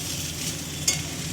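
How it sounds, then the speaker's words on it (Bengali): Dehradun rice with vegetables is stirred in a frying pan, giving a steady soft sizzle under light scraping and one sharper clink of the utensil near the end, with no voices. "এটা বেশি ভাজা হবে না, জাস্ট একটু মিশিয়ে একটু।"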